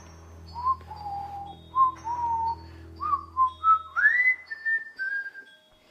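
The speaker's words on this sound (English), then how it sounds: "We heard that whistle." A series of clear whistled notes, some sliding upward, rising and falling in short phrases over a low steady hum, fairly faint and distant-sounding.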